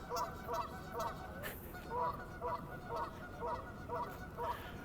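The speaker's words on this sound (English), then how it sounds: "The goose is going crazy." A goose honks repeatedly in short double calls at a steady rhythm, moderately close, over a constant background hiss with no talking.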